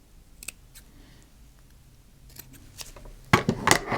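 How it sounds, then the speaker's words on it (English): Scissors cut through the seam point of a fabric bralette, giving a few sharp isolated snips followed by a louder cluster of close crisp chops at the end, with no talking. "I'm just going to take my scissors in"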